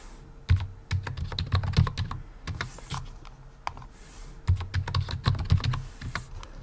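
Computer keyboard typed on at close range while entering a username and password, two bursts of quick irregular key clicks separated by a short pause, no talking.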